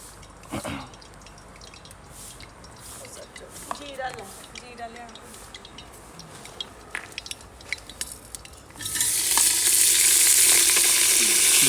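Tempering (tadka) hits hot oil with a sudden loud, bright sizzle near the end, after quieter kitchen clatter and stirring while people talk.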